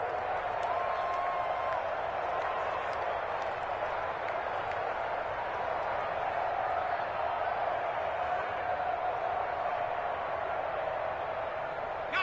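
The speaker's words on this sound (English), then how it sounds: "the crowd getting into it as we come up on a big 3rd down" Stadium crowd noise in an American football video game swells into a steady, dense roar of cheering and clapping that holds at an even level throughout, with no distinct voices standing out.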